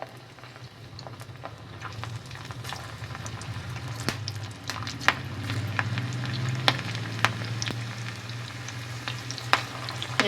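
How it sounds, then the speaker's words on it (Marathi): Overripe okra pakoras in batter deep-frying in hot oil, a steady bubbling sizzle close to the pan with scattered sharp crackles and pops throughout, no talking. "ओके तेल तापलें आमी पकोडा घालया"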